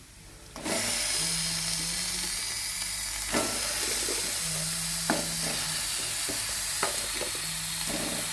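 Washed chicken pieces dropped into hot curry masala for a chicken curry: a sudden loud sizzle that then holds as a steady hiss and crackle, with occasional clinks of a utensil against the pan, close and without talk.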